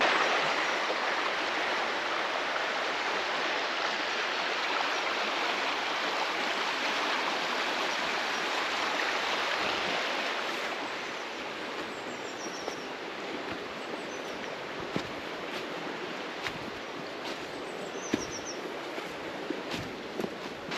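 Steady broadband rush of the River Douglas flowing near Adlington on the way to Winter Hill in winter, loud and continuous for the whole stretch, easing slightly partway through, with faint bird chirps above the water.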